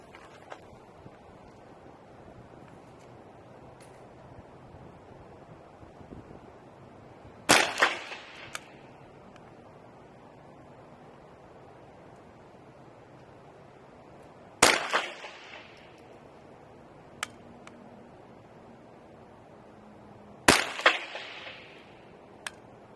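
Three sharp rimfire reports from a Marlin 60 semi-automatic .22 rifle ring out several seconds apart at an outdoor range, each crack loud and close with a brief decaying tail, between them quiet ambient background.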